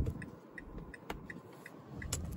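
Hazard lights of a high-mileage 2011 Mazda CX-9 ticking inside the cabin, a faint steady rhythm of soft clicks repeating about twice a second in a quiet interior.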